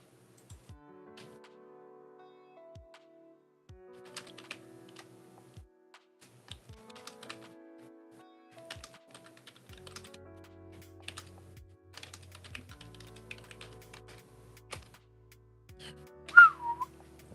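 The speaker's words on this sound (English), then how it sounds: "Just me fucking typing on the keyboard" Scattered clicks of typing on a computer keyboard come in loose irregular bursts, near and moderately quiet, with soft whistled notes drifting through and one louder whistle near the end.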